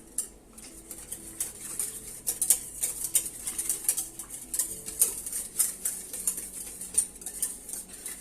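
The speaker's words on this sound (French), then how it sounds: "Donc faut pas trop fouetter la crème pour pas obtenir de mousse non plus" Melted gelatin being whisked into cream for panna cotta, a quick irregular clatter of a metal whisk against the bowl, close and fairly soft, with no voices.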